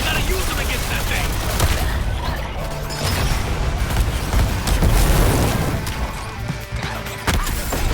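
A plasma beam weapon fires in the Suicide Squad versus Justice League game amid a dense, loud barrage of blasts, crashes and impacts that runs steadily throughout, with voices talking over the combat.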